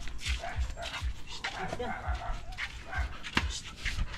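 A dog gives short yips and barks in quick bursts, close by, mixed with people talking over it.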